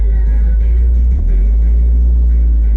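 A 1979 Fiat Spider with a 2-liter engine idles steadily on a cold start, a loud, close, continuous low rumble with a slight dip partway through.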